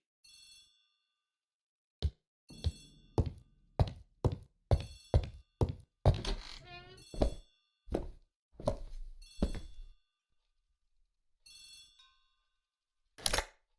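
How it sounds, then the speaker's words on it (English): A telephone rings in the hall of a mansion in an Agatha Christie mystery video game, a run of sharp, evenly spaced rings over several seconds with short pauses, loud and close, no talk. "The telephone in the hall is ringing."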